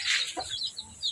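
A chicken clucks close and loud in a few short, sharp bursts over about a second, with no one talking.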